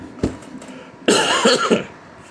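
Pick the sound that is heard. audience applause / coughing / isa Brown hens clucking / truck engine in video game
coughing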